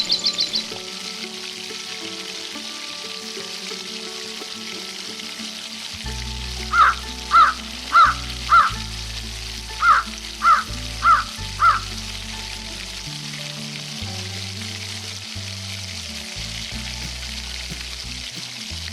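Tomatoes, chillies, beans, carrot, coriander, ginger-garlic paste and masala fry in a miniature pan for spicy egg fried rice, giving a soft steady sizzle under background music, broken by a run of crow-like caws.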